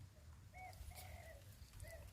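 A spotted dove (tekukur) coos softly in the open, giving two or three low, quiet hooting phrases over a steady low rumble of wind.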